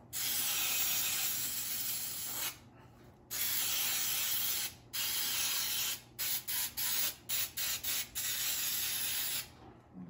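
Baking spray containing flour is sprayed into a muffin pan in bursts: two long hissing sprays, then a run of short rapid spritzes, loud and close with no talk.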